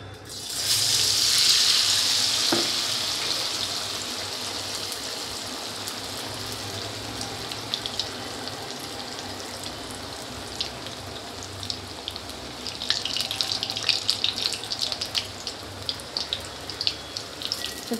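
Besan-coated brinjal slices drop into hot oil in a wok and burst into a loud, steady hiss that settles into a continuous fry, with scattered crackles and pops growing busier near the end.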